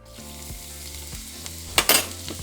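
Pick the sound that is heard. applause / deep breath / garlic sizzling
garlic sizzling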